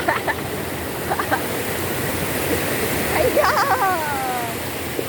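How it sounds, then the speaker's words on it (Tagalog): A strong river current rushes steadily at a river in Santol, La Union, a loud continuous roar of water. Voices shout and talk over it intermittently. "Lumalakas ang agos."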